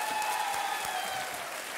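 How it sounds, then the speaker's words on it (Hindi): A studio audience on the Kaun Banega Crorepati game show set applauds, a brief, dense wash of clapping under a sustained musical tone. "बहुत बहुत तालियों के साथ इनका स्वागत किया जाए"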